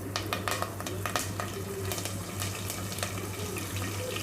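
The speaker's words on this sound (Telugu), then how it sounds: "జీలకర్ర, శనగబ్యాళ్ళు, ఉద్దిబ్యాళ్ళు, కరివేపాకు వేసుకొని మంచిగా ఫ్రై చేసుకోవాలి." Cumin, chana dal, urad dal and curry leaves fry in hot oil, giving a steady close sizzle with scattered crackles and pops and a low constant hum underneath, no voices.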